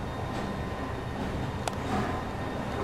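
A northbound London Underground Metropolitan Line A Stock train pulling out of Baker Street, a steady low rumble of wheels and motor with a brief sharp clank partway through.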